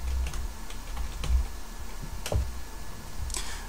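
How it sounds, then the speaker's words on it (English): A computer keyboard typed on briefly while entering a search, with a few distinct close clicks and taps spread over a low background hum. "put in a / and type in Rainmeter"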